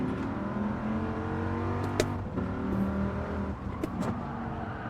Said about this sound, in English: Ooh, second gear and the car's sliding.